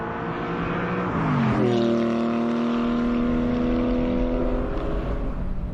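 A Frozen Berry Metallic Porsche Boxster Spyder with a 4.0-liter flat-six engine, rising into a strong, bassy rev that holds steady and loud, with layered harmonic tones and no talking.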